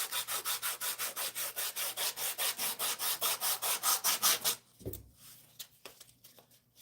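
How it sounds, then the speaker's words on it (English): Wood is sanded by hand in quick, even back-and-forth strokes, a loud rhythmic rasping close by that stops abruptly and gives way to scattered light knocks. "anytime I start sanding, I want a power tool"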